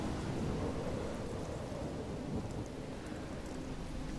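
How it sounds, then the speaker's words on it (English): Thunderstorm in the Life is Strange video game, with a steady, dense wash of rain and low rumbling thunder running continuously at fairly even loudness, no talking. "Storm brewing."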